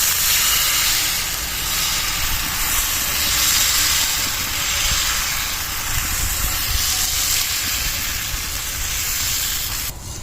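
Radish pitha batter sizzles on an oiled tawa griddle, a loud, dense, steady hiss that holds evenly throughout with a faint clink near the end.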